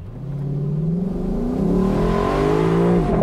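A Lexus LC 500 convertible V8 (2022) accelerating hard at full throttle with traction control on, its engine note rising steadily through the gears, loud and close, with a shift near the end.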